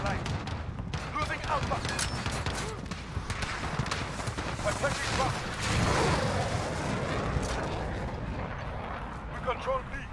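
Gunfire in Call of Duty: Modern Warfare, scattered shots and bursts amid a busy match soundscape, moderately quiet and mixed under ongoing voices.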